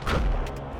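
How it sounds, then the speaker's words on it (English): A single deep booming shot from a siege disruptor weapon in the Void War video game, a short heavy low thump that fades quickly. "They are only firing at me with the siege disruptor"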